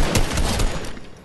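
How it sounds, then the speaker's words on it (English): Dense, overlapping gunfire bursts in a duos battle royale video game, loud and sustained throughout with rapid shots layered close together. "Who's shooting?"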